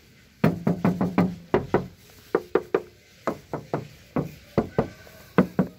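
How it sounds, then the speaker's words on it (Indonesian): Knuckles rap repeatedly on the body panel of a 1999 Isuzu Panther Royal, short sharp knocks in quick clusters of two to four with brief pauses, close and fairly loud, with no talking. "Kita ketok bodinya yuk."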